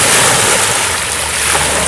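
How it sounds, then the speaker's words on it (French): Ocean waves wash steadily onto a cold-water swimming beach, a loud continuous broadband surf roar with wind buffeting the microphone, no voices. "Alors, on a même l'ambiance avec les vagues."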